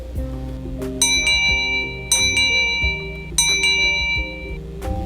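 Small bell struck three times at roughly even intervals, each giving a bright, higher ringing tone that lingers over lower sustained hum; close and clear, no talking.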